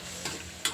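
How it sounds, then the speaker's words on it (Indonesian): Petai beans frying in a pan give a soft, steady sizzle, broken by two quick crackling pops. "Nih goreng pete."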